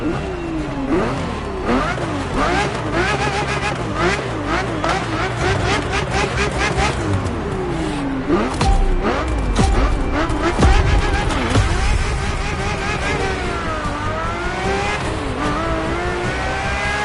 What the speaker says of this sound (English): Let me tell you more about the Ferrari F50.